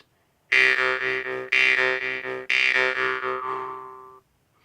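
A jaw harp played by alternating breathing in and out, three loud twangy buzzing notes with a sharp attack, the last one ringing out longer and fading.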